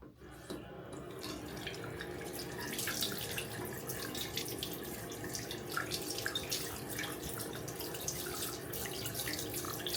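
Tap water running steadily into a sink to soak compressed towels, a continuous splashing stream with small drips and handling noises on top, fairly close.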